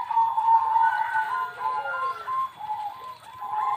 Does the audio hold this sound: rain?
no